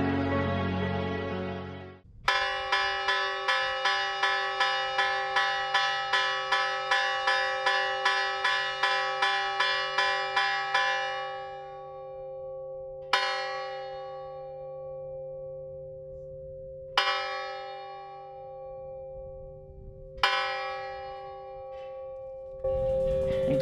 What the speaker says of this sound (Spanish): las 3 últimas campanadas que hemos tocado ahora las hemos incorporado, las he incorporado a las primeras